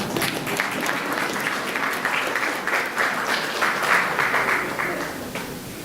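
An audience at a healthy-eating question-and-answer session claps in a sustained, dense burst of many hands, fairly loud and even with slight swells.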